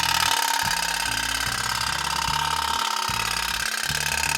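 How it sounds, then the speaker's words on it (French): Small pop-pop toy boat with a candle-heated boiler and vibrating membrane putters in a continuous, fast rhythmic pulse, accompanied by recurring low mechanical tones, close and steady throughout. "La petite membrane va se mettre à vibrer et faire un joli bruit de bateau à moteur."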